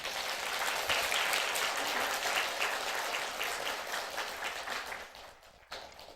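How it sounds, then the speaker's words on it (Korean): A church congregation applauds the choir during Sunday worship, a dense, steady wash of clapping that holds loud for several seconds, then thins and fades near the end. "크게 한 박수 한번 부탁드립니다"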